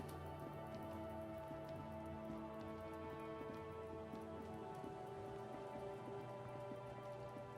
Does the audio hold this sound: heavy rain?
yes